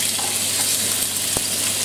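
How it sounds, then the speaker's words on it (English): Lamb pieces sizzle in hot oil in a pan with a steady, close, hissing crackle and one brief sharp pop near the end. "So you can hear that sizzle from the lamb."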